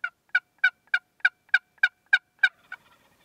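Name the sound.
wild turkeys gobbling in answer to a call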